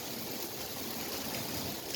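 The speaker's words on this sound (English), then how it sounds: "You can hear the water beating on the ground." Rain water beats on the ground in a steady, dense outdoor hiss that stays even and continuous throughout.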